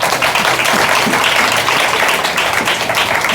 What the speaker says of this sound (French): On applaudit Jésus pour révélation.